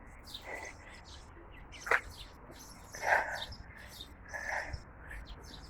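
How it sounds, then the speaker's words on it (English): Scattered bird chirps and short calls ring out over a soft outdoor background, a few brighter tweets standing out now and then. "hear the birds singing."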